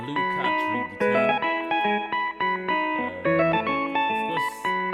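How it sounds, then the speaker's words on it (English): Layered electric guitar chords through a Blue Cat amp simulator with a high-pass filter ring out in a steady rhythmic Lingala strum, thick with chorus and distortion, playing alone and fairly loud. "So that's what I did to the rhythm guitar."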